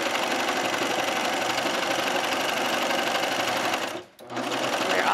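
A sewing machine stitches elastic onto a ribbed sportswear skirt waistband in a fast, steady buzzing run, close and clear, breaking off briefly near the end before resuming.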